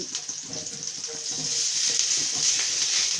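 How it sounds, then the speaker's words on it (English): Beef frying with curry powder in a pan sizzles steadily while a utensil stirs it, producing scraping and clattering that grows slightly louder toward the end, with no talking. "I add in the curry and stir it a little bit"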